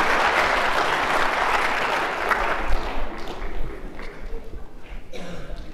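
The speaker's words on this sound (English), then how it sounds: "Give yourselves a round of applause." A meeting crowd at the 2018 FOD annual meeting applauds themselves, loud dense clapping at first that thins and fades into scattered claps and a murmur of voices.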